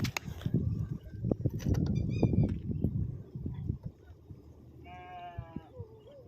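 Sheep bleat a few times amid outdoor rustling and soft background noise, with one clear wavering bleat near the end.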